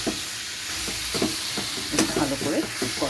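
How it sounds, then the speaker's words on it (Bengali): Spice paste for a pointed gourd and potato curry sautés in a pan with a constant loud sizzling hiss, while a spoon scrapes and stirs it in short strokes. "মশলাটা কষাচ্ছি"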